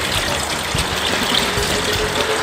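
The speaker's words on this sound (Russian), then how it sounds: "Пруд. С водопадом." A garden pond waterfall gives off a loud, continuous gush of splashing water close by, a steady rush with no pauses.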